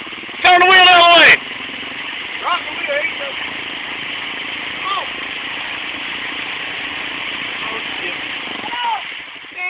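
An off-road vehicle stuck at an off-road park, its engine droning at a steady idle with one sharp loud rev near the start, while people talk and shout in the background.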